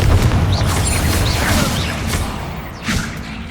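Confringo spell blast in the game Hogwarts Legacy, a loud, deep rumbling boom with a whooshing, crackling tail that sustains and slowly fades over a few seconds.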